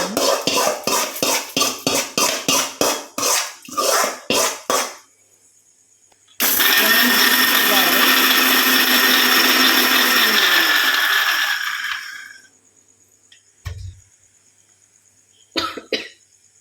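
A mixer grinder grinding masala whirs loudly for several seconds in a steady, harsh roar, then winds down, bracketed by rapid rhythmic rattling pulses before and short clicks after.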